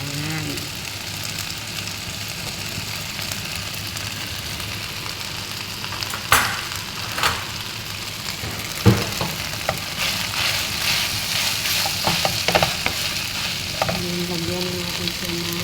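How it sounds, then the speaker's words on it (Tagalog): Fried rice sautéing in a pan with garlic, onion, chicken, hotdog and egg: a steady, loud, close sizzle throughout, with scattered clanks and scrapes of a spatula stirring, and brief speech near the end. "ginisa na natin guys sa bawang at sibuyas and chicken."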